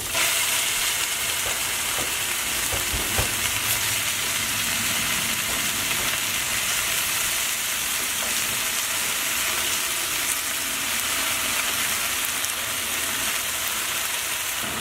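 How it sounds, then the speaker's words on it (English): Precooked turkey bacon heats in a pan on a stove set to low, making a continuous soft sizzle with scattered small pops and crackles. "I'm gonna add the turkey bacon"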